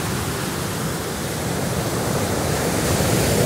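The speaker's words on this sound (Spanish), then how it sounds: "Escucha las olas. Nacen y mueren en la playa" Ocean waves break on a beach, making a steady, loud, broadband wash of surf that swells slightly toward the end, with no voices.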